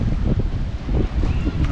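Strong, gusty wind buffets the microphone on the shore of Lake Geneva, a steady dense roar with no voices.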